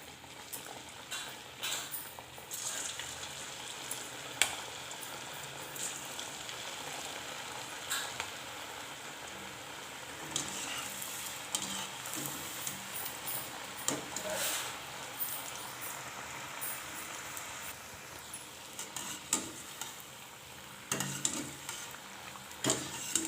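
Pitha frying in hot oil, a steady broadband sizzle with scattered crackles and occasional stirring clinks, moderately loud and continuous throughout.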